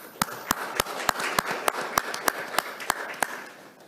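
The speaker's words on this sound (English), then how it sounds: "So a round of applause for them as well." An audience at a South Korea RE100 policy launch event claps in a thin, sparse way. Distinct hand claps land at a steady rhythm over a soft room wash and fade toward the end.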